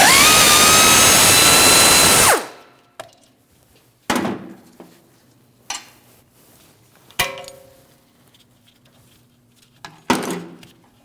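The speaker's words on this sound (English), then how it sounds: "Remove your 14mm bolt" A 14mm caliper bolt coming off the rear brake of a Lexus NX350, a loud power-tool whine for a couple of seconds followed by a series of separate metallic clanks and taps.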